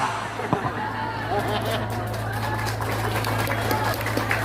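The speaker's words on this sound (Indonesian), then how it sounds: "Kenapa tepuk tangan Bu?" Scattered audience applause in a room during an Islamic sermon, a patter of clapping mixed with crowd murmur and a steady low hum, with a voice speaking over it.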